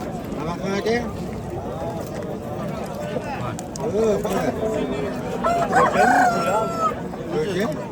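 Roosters crow over a busy, noisy crowd at a poultry market in Namangan, with people talking throughout, and several hens clucking in the background.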